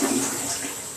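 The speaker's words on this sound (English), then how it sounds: "The toilet flush is good." A toilet in a relatively new bathroom flushes in a short, steady rush of water, close and fairly loud with no voices.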